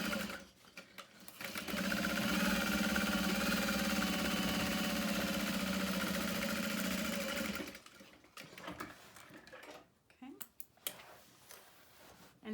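A sewing machine runs steadily for about six seconds while back-stitching a seam on a fabric bag with interfacing, then stops, leaving a few faint handling noises and brief voice sounds.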